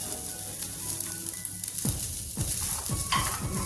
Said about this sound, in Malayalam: നമുക്കൊരു അരക്കപ്പ് കപ്പ് തേങ്ങ വറുത്തെടുക്കാം